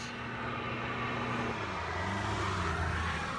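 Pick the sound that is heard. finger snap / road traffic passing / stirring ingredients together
road traffic passing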